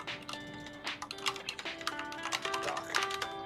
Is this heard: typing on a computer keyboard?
yes